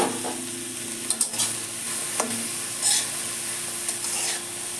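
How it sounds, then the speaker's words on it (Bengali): Shredded cabbage frying in hot mustard oil in a wok: a constant sizzle broken by several sharp scraping stirs of the spatula, close and fairly loud, with no talking. "কড়াতে সর্ষের তেল দিয়েছি, বাঁধাকপিটা ভেজে নেব"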